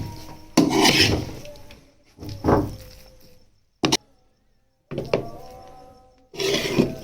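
Halwa made with maida is scooped and scraped out of a pan into a serving dish, giving several loud bursts of metal spoon scraping and clattering against cookware, separated by short pauses and one brief sharp clink.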